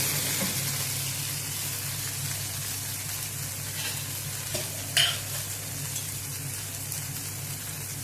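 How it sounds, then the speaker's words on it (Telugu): Tomato and onion cook down in a pan with salt and turmeric for fish curry, giving a steady soft sizzle, with a brief clink of a utensil partway through. "టమోటా, ఉల్లిగడ్డ అంతా మగ్గేంత వరకు కొంచెం మగ్గనిద్దాము."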